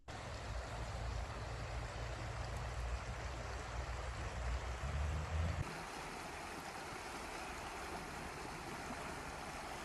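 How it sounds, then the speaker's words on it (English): A creek flows beside a quiet campground, a steady broadband rush of water with a low rumble that drops away partway through. "We were right by this creek."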